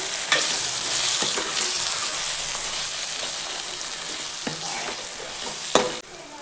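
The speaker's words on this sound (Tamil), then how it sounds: "இப்போ இந்த மசாலாலாம் நல்லா வெங்காயம் தக்காளியோட சேர்த்து வதங்குற மாதிரி ஃபுல்லாக வந்து நம்ம வதக்கி விட்டுடலாம்" Masala with onion and tomato sizzles loudly in a hot pan while a spoon stirs and scrapes against the metal, with occasional sharper knocks near the end.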